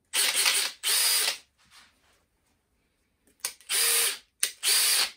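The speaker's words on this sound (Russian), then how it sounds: "Шуруп в дрель. В дрель ставим на сверление." A Makita power drill set to drilling mode drives a screw, whirring loudly in two long bursts, then a short pause before two more steady runs, all close by with no talking.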